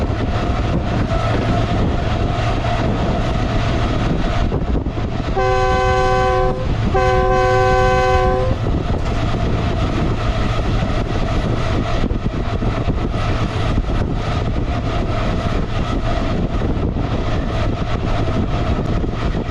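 The Pakistan Express running on the main line in Sindh, heard from on board as a loud, continuous rumble and rattle of wheels and carriages, broken by two long horn blasts in quick succession partway through.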